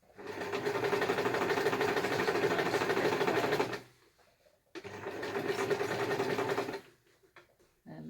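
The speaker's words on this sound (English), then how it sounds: "So zigzag is an easy way to finish a seam if you don't have an overlocker" A sewing machine runs a zigzag stitch to finish a seam edge, whirring steadily and loudly in two long bursts with a brief pause between, then restarting at the end.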